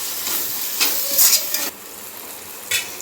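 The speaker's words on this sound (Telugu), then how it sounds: "ఇప్పుడు వేయించుకుందాం దీన్ని కూడా కొంచెం" Tomato, coriander and curry leaves fry in a pan for chicken gravy, giving a loud, close sizzle and hiss. A few bursts of stirring scrape through it.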